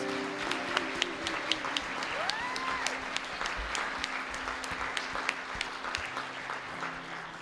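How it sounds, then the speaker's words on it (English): A church congregation on Palm Sunday claps for two young performers, soft even applause with a few sharper individual claps standing out over steady low background noise. "we'd love to give them a huge round of applause"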